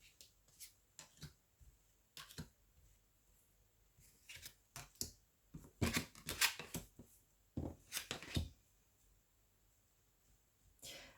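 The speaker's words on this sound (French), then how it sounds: "je vais tirer 3 cartes" Tarot cards being drawn and shuffled, with soft irregular flicks and slides, a few louder riffling bursts in the middle, close and quiet with no talking.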